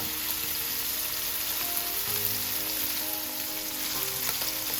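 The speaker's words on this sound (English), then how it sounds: "So we're trying to get this all nicely browned" Sausage meat browning in a pan for a pumpkin risotto gives an even, close sizzle with light spattering pops and occasional stirring, steady throughout and without speech.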